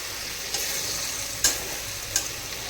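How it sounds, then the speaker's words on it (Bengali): Chitala (clown knifefish) muitha dumplings simmer in curry broth, a steady soft bubbling hiss broken by two or three brief louder clinks of a spoon against the pot. "ভালো করে মুইঠাগুলোকে ঝোলের মধ্যে ফুটতে দেব।"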